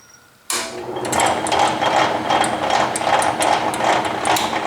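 Metal shaper running at maximum stroke speed with a short half-inch stroke, starting abruptly into a loud, fast, steady mechanical clatter with rhythmic pulsing.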